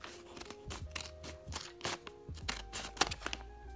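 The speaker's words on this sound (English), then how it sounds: "Now let's just cut it open." Scissors snip through a paper squishy blind bag in a quick series of close, crisp cuts with light crinkling of paper in between.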